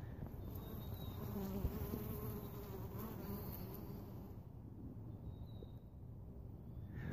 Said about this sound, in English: I'm not really scared of honeybees.